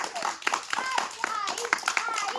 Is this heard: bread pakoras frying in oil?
no